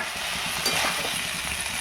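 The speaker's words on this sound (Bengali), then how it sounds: "এবার আমি গুগলিগুলো দিয়ে এর মধ্যে ভালো করে কষিয়ে নেব" Freshwater snails are stirred into a cooked-down spice paste in a pan: a brief, steady, close sizzle with soft scraping from the stirring.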